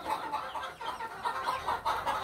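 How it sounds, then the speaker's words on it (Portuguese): Free-range chickens in a small backyard flock cluck continuously, a busy overlapping chorus of moderately close, dense clucking. "Isso é a minha pequena criaçãozinha de galinha caipira, tá?"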